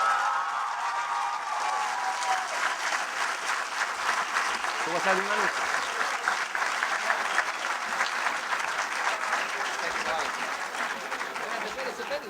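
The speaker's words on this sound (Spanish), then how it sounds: "hay que darle un aplauso." Sustained audience applause fills a debate hall in Santo Domingo after a poll result is announced, steady dense clapping lasting throughout with a brief question spoken over it midway.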